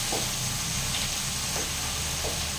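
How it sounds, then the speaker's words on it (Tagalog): Banana blossom sautés in a pan with a constant, close frying hiss, broken by a few soft stirring scrapes; steady and fairly loud, with no voices. "ang gagawin ko ngayon, ginisa lang"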